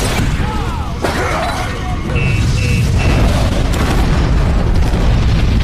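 Molotov bomb exploding inside a warehouse in a film scene, a loud, dense roaring burst of fire and crashing debris that fills the whole stretch, with faint voices underneath.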